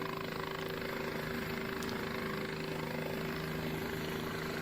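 A helicopter's steady rotor and engine drone sits close and loud for the whole stretch, a continuous even hum with no speech over it.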